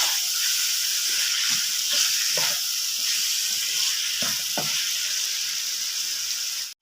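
Vegetables frying in a pan for restaurant-style chicken chow mein, a dense continuous sizzle and hiss with occasional stirring knocks, close and even, cutting off abruptly at the end with no talk.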